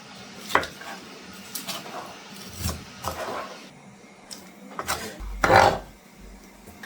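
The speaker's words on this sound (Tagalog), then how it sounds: "Ngayon, himay-himayin natin tong karne." Cooked chicken being pulled apart by hand for Romanian ciorba de pui, with scattered soft tearing, scraping and knocks against a dish, irregular and close, in a quiet kitchen.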